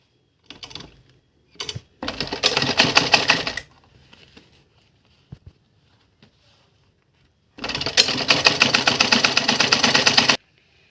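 A sewing machine stitches a cutwork design on a kurti bottom, rattling in a short burst, then a longer run, then another sustained run, separated by quiet handling clicks.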